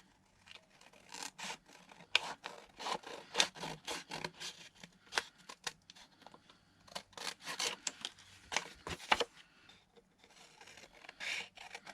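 Scissors cutting paper around the edge of a journal cover: a run of close, crisp snipping and rustling cuts in irregular bursts, pausing briefly near the end, quiet, with no talking.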